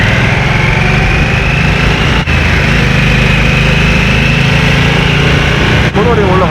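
Harley-Davidson Nightster motorcycle engine pulling hard uphill, a loud, steady, buzzing drone with a rising pitch as revs climb. Two brief dips break the roar, and no voice is heard over it.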